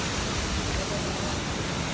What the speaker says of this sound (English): now we can walking around in front of the waterfall